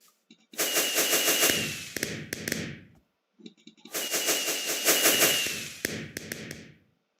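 Fireworks in the game Minecraft give two loud bursts of rapid crackling pops, each lasting about two and a half seconds and separated by a brief silence.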